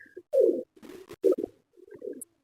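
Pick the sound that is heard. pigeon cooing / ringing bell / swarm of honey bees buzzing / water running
pigeon cooing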